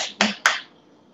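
Two sharp, wet slaps of bread dough against the wall of a large mixer bowl, close together and close by, each ringing briefly before fading into quiet.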